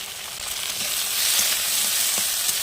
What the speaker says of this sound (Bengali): এবার আমি সিমগুলো ভালো করে নাড়িয়ে ভেজে নেবো লবণ দিয়ে দেবো লবণ দিয়ে ভাজবো